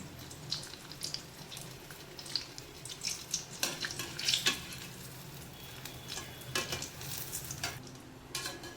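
Egg bajji battered eggs frying in hot oil, a steady soft sizzle with crackling bursts and occasional scraping of a ladle, close and moderately quiet, no talking.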